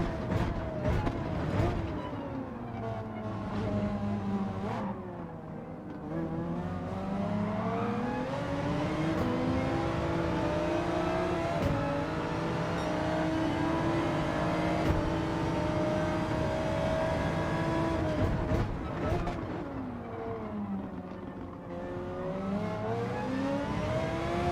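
Race car engines roar continuously in Gran Turismo 7 daily online racing, with Audi and other Gr.4/Gr.3 cars rising and falling in pitch through gear changes, loud and up close, with no talk.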